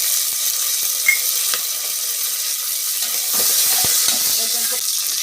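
Fenugreek leaves frying in hot oil in a pan, a steady bright sizzle with scattered scraping clicks as they are stirred, close and alone without talk.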